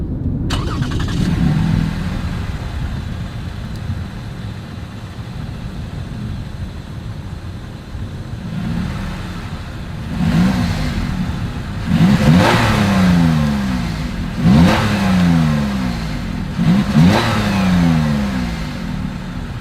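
Lexus RX F Sport with dual exhaust and chrome tips: the engine idles, then is revved several times in quick succession, each rev rising loudly and falling back, close to the exhaust.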